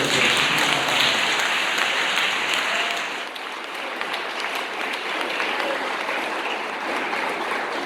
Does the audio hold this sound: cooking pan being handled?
no